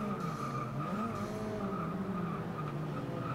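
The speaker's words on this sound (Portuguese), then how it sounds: "Você pode ver que faz aquele borrachão toda vez que eu acabo freando." Tires squeal steadily under braking in Forza Motorsport 6, driving a Mazda RX7, a loud sustained screech over the droning race-car engine with no talk.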